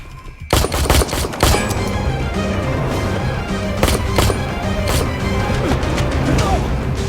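Loud bursts of gunfire in an action-film shootout in a parking lot, several sharp shots in quick succession followed by scattered single shots and echoing cracks over a rumbling background.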